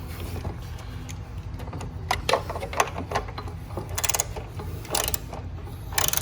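Bolt being tightened into a plastic mount on a Venom x20 rear brake assembly, with light ratcheting clicks and small mechanical taps over a steady low background hum.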